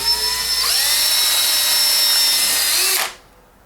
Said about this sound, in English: go and pre-drill through this side